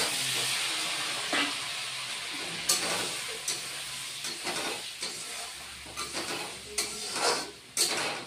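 Potatoes fry in oil in a pan with a steady close hiss, punctuated by clanks and scrapes as a spatula stirs against the metal, with a few louder bursts of sizzle.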